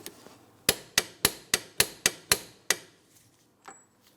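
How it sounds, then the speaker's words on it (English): A hand torque wrench tightening the axle nut on a 2004-2008 Pontiac Grand Prix front axle, heard as eight sharp, evenly spaced metallic ratchet clicks, loud and close, followed by faint handling noise. "Now that I have it bottomed out by hand, I'm torquing it to 118 foot-pounds."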